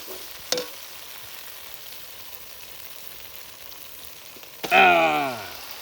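Chicken pieces hit hot oil and fried spice paste for a chicken curry, bursting into a loud, close sizzle after a quiet stretch with one brief clatter near the start.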